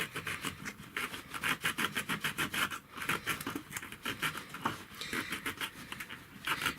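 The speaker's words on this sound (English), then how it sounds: "I'm going to have to do a little sanding." Sanding wood by hand to fit a larger homemade spice shaker, a steady rhythmic scratchy rasping of strokes back and forth, close and continuous without talk.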